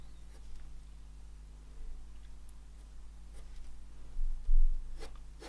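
Pencil sketches across paper for a watercolour swan drawing, making soft, intermittent scratchy strokes with a few firmer scrapes near the end, close and quiet with no talking.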